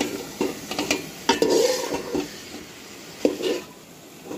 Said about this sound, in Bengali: প্রথমে হাতা দিয়ে ভালোভাবে নাড়াচাড়া করে নেব